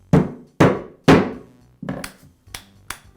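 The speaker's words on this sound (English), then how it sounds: "tap it into place with a rubber mallet" A rubber mallet taps a cap onto the shaft of a Makita reciprocating saw: six close, dull knocks, with three firmer blows followed by three lighter ones in quick succession.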